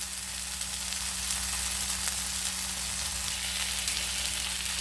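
Masala-coated kanangeluthi fish fries in a pan with a dense, even hiss of hot oil, loud and close and unbroken throughout with no stirring.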